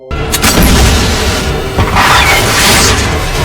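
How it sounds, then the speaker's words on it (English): A loud, sustained explosion blast near a courthouse, rumbling across the full range for over three seconds with a second surge partway through, debris-like crackle throughout. "the explosion ripped through the air"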